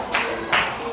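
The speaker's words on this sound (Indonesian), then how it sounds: "kasih aplaus dulu dong buat Ica" Two brief bursts of hand clapping in a classroom lesson, applause for a student, close and short.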